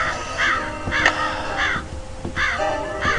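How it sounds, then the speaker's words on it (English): Crows caw repeatedly in a Nancy Drew video game, five or six harsh calls spaced roughly half a second apart, with a few sharp clicks between them, clear and fairly close. "They're always crows, too."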